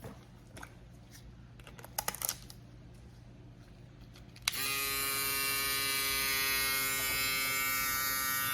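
Quiet clicks and handling for a few seconds, then an electric shaver switches on and keeps up a steady, bright buzzing whine to the end.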